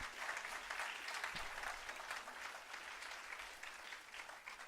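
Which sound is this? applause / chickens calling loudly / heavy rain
applause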